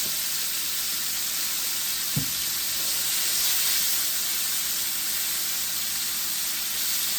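Chicken nuggets fry in a pan with a steady, even sizzle and hiss throughout, with one brief sharp tap partway through and no voices.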